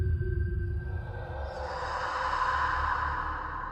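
A low, airy rumble swells into a long hissing exhale, like eerie breathing, steady and close with no talk.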